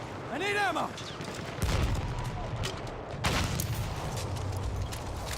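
Battlefield 1 gunfire crackles in bursts during a competitive esports match, with loud impacts around 1.7 and 3.3 seconds over a continuous battle din, while a commentator talks throughout.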